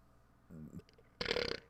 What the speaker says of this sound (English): That's like a frothy burp.